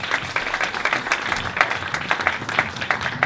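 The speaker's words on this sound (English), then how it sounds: "A big round of applause for Chris, ladies and gentlemen" Wedding guests at a golf club reception clap after a speech, a lively, slightly uneven round of applause heard throughout at moderate loudness, with a few voices mixed in.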